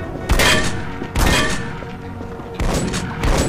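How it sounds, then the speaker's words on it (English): A turret fires steadily in the shooter game E.Y.E. Divine Cybermancy, loud close bursts of rapid gunfire with heavy booms. Three distinct volleys are separated by short quieter gaps. "What is that constant shooting? Is that a turret?"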